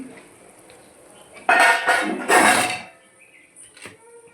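A metal lid goes onto a cooking pot of egg curry, making two close clattering bursts of metal against metal that trail into quiet kitchen background.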